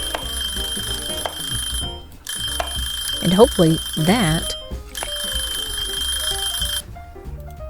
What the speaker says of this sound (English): because that timer distracted me